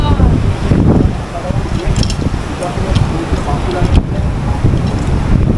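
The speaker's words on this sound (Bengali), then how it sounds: "বেশ জোরে হাওয়া চলছে।" Strong wind buffets the microphone at Digha sea beach, with rough surf crashing in a loud, continuous roar and a voice speaking over it.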